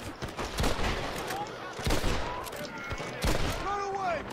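Rifle gunfire in the Xbox 360 game Red Dead Redemption, a few sharp shots spaced apart over a noisy in-game scene, with voices talking throughout.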